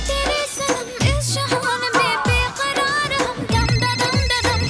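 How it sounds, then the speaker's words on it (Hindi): A melodic phone ringtone plays loudly and continuously, a bright electronic tune with a bouncing bass line. "यार अब किसका फोन आ गया?"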